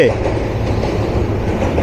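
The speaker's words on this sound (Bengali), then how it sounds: "রাজধানী ঢাকা থেকে রাজশাহী অভিমুখী train number seven six nine" Train 769 runs from Dhaka toward Rajshahi across a railway bridge in Sirajganj, giving a steady loud rumble with rail clatter throughout. A voice is heard briefly over the noise.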